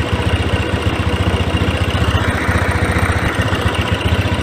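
A fuel-injected Honda Scoopy scooter with a misfiring, stuttering fault idles at high revs while warming up, a steady, rapid mechanical putter heard close and alone.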